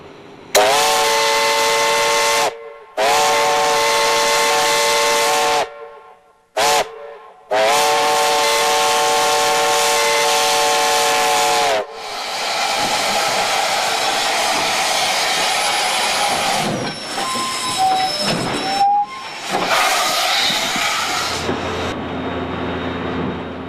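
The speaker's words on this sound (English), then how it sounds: "Cumberland is home to the Western Maryland Scenic Railroad and Steam Locomotive 734, which it's a Baldwin SC1 Class 280, built in 1916." Western Maryland Scenic Railroad's Baldwin steam locomotive 734, a 2-8-0 built in 1916, blows its whistle in a series of long and short chime blasts near Cumberland. The whistle gives way to the steady hiss of the running train, with faint squealing tones.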